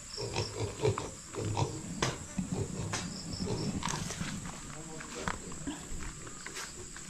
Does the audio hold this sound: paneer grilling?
no